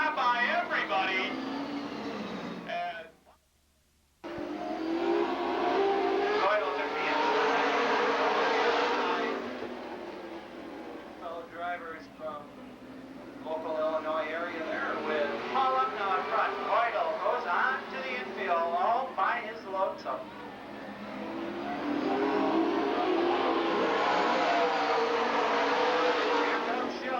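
Super late model race cars racing at Lake Geneva Raceway in Wisconsin, engines surging and fading as they pass, under almost constant commentary, with one brief drop to near silence.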